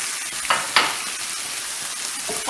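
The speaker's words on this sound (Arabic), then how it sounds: "دابا غادي نضيف الشعرية" Vermicelli frying in a pan of filling for savory briouats, a steady broadband sizzle running throughout, with a couple of brief louder crackles or stirring scrapes.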